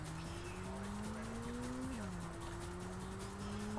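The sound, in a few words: race car engine and tire skids in Ridge Racer video game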